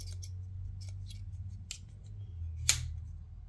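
Small metallic clicks and snaps of the pliers on a titanium-scaled multitool being unfolded, one sharp click near the end, over a low background hum.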